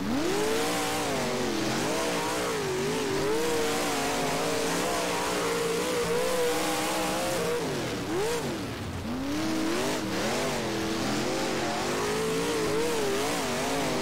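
Late model race car engine at Bedford in the rFactor racing game, a continuous loud, close roar with rising and falling revs through gear changes, dipping briefly mid-lap before climbing again.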